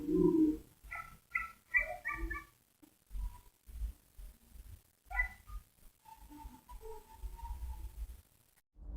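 A dog in trail cam footage, with whimpering, yelping sounds in short bursts over a low, steady background rumble.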